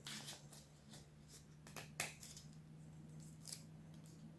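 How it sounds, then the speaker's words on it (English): Scissors snipping through folded paper to cut a snowflake, with faint, irregular crisp snips and rustles over a steady low hum, quiet and close, with no talking. "So you just take your scissors and you go straight up."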